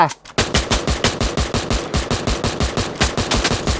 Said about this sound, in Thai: มันยิงกันแล้ว